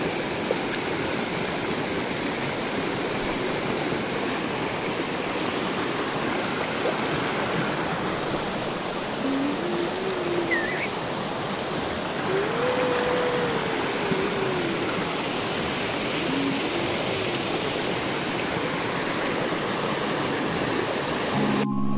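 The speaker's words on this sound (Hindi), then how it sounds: "देखो कितने अच्छे से पानी बहते हुए जा रहा है" River water rushes steadily past in a broad, unbroken wash that stays loud and close for the whole stretch, with faint higher tones drifting briefly over it.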